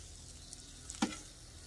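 Shrimp and chicken cooking on a Blackstone griddle, a faint steady sizzle with a single sharp scrape or tap of a spatula near the middle, no one speaking.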